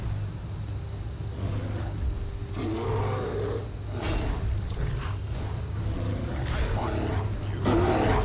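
Deep, rumbling roars from a bear in the video game Skyrim, rising in several bursts over a constant low game ambience, loud and close.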